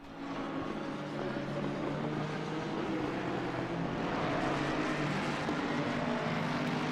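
Mustang race cars lapping Watkins Glen in a racing video game, a steady, loud, continuous engine roar that holds a constant drone throughout with no clear breaks.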